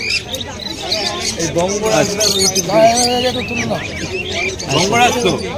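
Lutino lovebirds at the Dakshineswar pet market chirp and tweet in quick, close bursts, mixed with dense market chatter and other bird calls.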